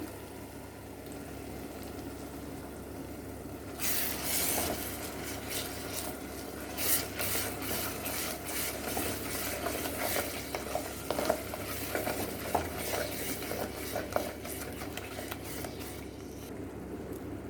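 Tomato paste cooks in a pan for an Andhra crab curry. A soft, quiet background hum turns to a steady, busy sizzle and bubbling, with irregular spoon clicks and scrapes of stirring throughout, heard up close.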